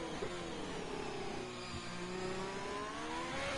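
Race car engine in a racing video game at Bahrain, a steady high whine with falling harmonics as the driver briefly lifts off the throttle, continuous and fairly loud with no talk.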